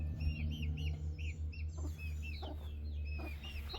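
A hen named Cinnamon and her five chicks in a chicken tractor: close, high peeping chirps repeat rapidly over low clucking and a steady hum beneath.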